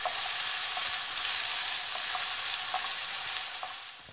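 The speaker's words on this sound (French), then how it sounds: "Je fais revenir mes oignons dedans pendant 5 minutes à feu moyen" Onions frying in oil in a pan over medium heat, a steady bright sizzling hiss with faint occasional crackles and pops, close and even throughout, no voices.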